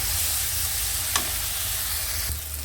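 Small tomatoes hit a hot pan while a Goan pumpkin bhaji cooks, giving a loud, continuous sizzle and frying hiss, with a brief sharper crackle partway through.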